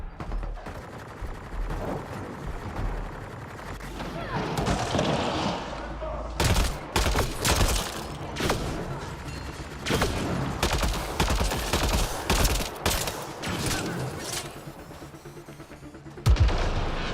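Gunfire in the video game Mass Effect: Andromeda, with repeated loud shots and bursts of fire amid battle noise and explosions, and some talking in between.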